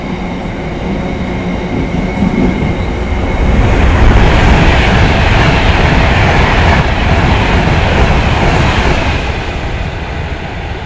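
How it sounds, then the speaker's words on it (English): A Class 390 Pendolino electric train passes through Nuneaton station at speed, a loud close rushing roar of wheels and rail that builds after a few seconds and holds steady, with a faint high whine above. "And 390112 passes through. Another of the Pendolinos coming through."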